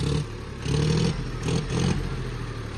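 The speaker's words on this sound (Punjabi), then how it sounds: "ਇੰਜਣ ਦੇਖ ਲਿਆ ਕਿਵੇਂ ਬੋਲਦਾ" A John Deere 5050D tractor engine runs close by, a rough mid-pitched diesel rumble that swells in two or three short revving surges before settling back to idle.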